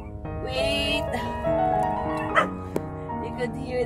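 Small stray puppies whimper and cry in high, drawn-out whines and short yips, close by and overlapping, with a person's voice talking among them.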